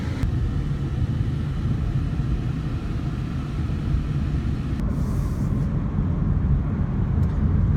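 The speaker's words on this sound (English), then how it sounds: "So many cars and people driving." Road traffic rolls by in a continuous low rumble of cars on a sunny day, a dense steady wash of engine and tire noise with no distinct single passes standing out.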